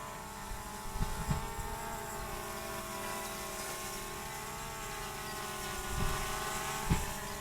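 A DJI Air 2S drone flying in active track gives off a steady, high-pitched propeller whine that holds at a constant moderate level, with occasional soft knocks and rustles from nearby movement.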